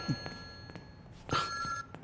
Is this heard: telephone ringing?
yes